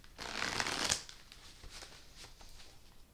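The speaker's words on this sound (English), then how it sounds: "Let me do a couple more shuffles." Tarot cards are shuffled up close, starting with a brisk riffle, followed by softer, scattered flicks and shuffling sounds.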